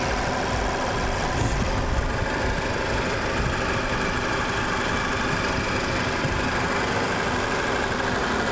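A 2013 Mazda CX-5 Sport with its 2.0 engine idles steadily up close, a continuous even rumble with a light mechanical tick and no voices.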